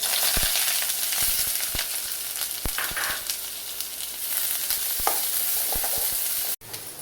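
Onion and green chili frying in hot oil, a loud continuous sizzle with scattered pops and crackles, ending with a brief drop-out.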